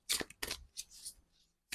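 A deck of Tree of Life oracle cards is shuffled by hand in a few quick, soft papery riffles and flicks, faint and close in a quiet room.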